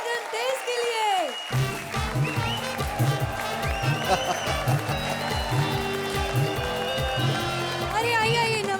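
Studio audience at a Hindi comedy show breaks into loud, sustained applause with rhythmic clapping that swells and continues for several seconds, with music and voices mixed in.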